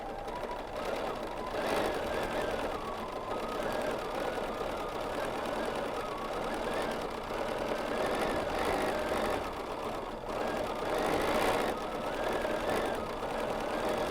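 A sewing machine stitches steadily during free motion quilting, a continuous close mechanical whirr with slight surges in speed and no pauses.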